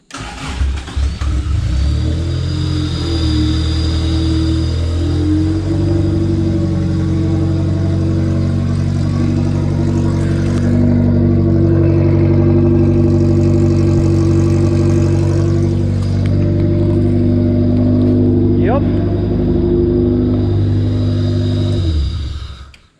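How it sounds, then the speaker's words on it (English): A Toyota AE86 Corolla engine cranks and catches, then runs with a deep rumble and several revs rising and falling, loud and close, before shutting off. "That big muscle right there with 90 horsepower probably. Let's hear this thing roar."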